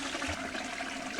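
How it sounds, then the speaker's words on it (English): A toilet flushing in the Deponia video game gives a brief, steady rush of gushing water, loud and close, with no other sound over it. "Okay, gonna flush this."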